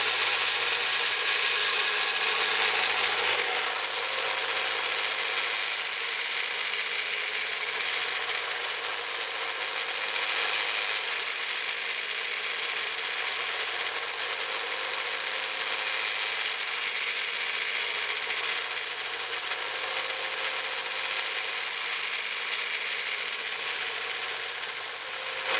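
A rotary tool grinds down a handmade copper ring, a steady high-pitched whirring and abrasive hiss that runs continuously and loud throughout, with no talking.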